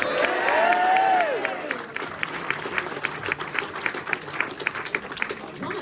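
An audience at a Belle Vue speedway press conference cheers and claps for a young rider. A loud whooping shout opens it, then the applause thins into sparse, distinct claps.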